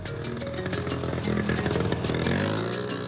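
A motorbike engine running on ethanol fuel drones steadily and loudly close by, with a busy, clattering mechanical texture that holds throughout.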